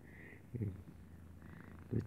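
A pet cat purrs softly at close range, a low rumbling murmur with a couple of slightly louder pulses, quiet and alone.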